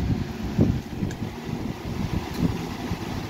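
Lasko B20100 fan running on high speed, a steady low, breathy whoosh of moving air heard close by for a few seconds, with no talking.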